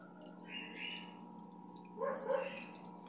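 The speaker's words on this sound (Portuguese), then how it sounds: "só o barulho da água" Water trickling and splashing from a repaired Aguatec aquarium filter, a steady soft flow with brief louder splashing bursts, fairly quiet and close, with no one talking.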